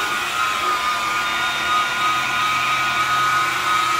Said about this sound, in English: This is a variable speed buffer.